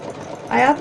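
A domestic sewing machine runs a pre-programmed stitch on fabric for a doll-dress peg bag, starting midway with a steady mechanical whir that stays close and fairly loud until the end.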